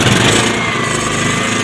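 A petrol generator with a starting problem, choke raised and switched on, is cranked and fires up; a dense, loud, steady engine roar runs throughout the short clip with no talk.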